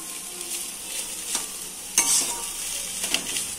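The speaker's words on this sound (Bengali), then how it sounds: "দেখো এখানে কচু আর পেঁয়াজটা একদম ভাজা ভাজা হয়ে গেছে।" Chopped taro and onion fry in a pan with a steady sizzle and a few sharp scrapes and clinks from stirring, without any talking.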